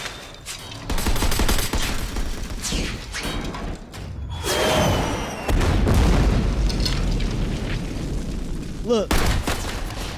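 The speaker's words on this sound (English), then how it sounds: "He's shooting with her weapon." Gunfire and heavy booms from a played movie battle scene, with a man firing a woman's weapon, loud and continuous across the clip under a dense rumble, with a voice speaking briefly over it.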